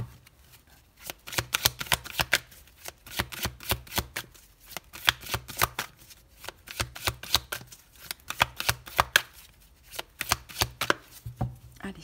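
A Light Seers tarot deck is shuffled and cut for a Gemini reading, giving a steady run of crisp, close riffling card snaps in quick bursts with short pauses between them.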